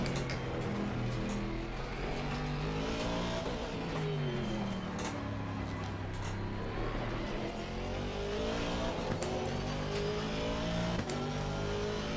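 Aston Martin V8 race car in Assetto Corsa Competizione accelerating hard, a loud continuous engine roar whose pitch climbs steadily through the gears, with rising and falling harmonics and no talk over it.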